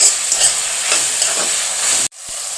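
Ingredients for a fish curry sizzle and are stirred in a hot pan, a steady close frying hiss that cuts off abruptly near the end before resuming more quietly.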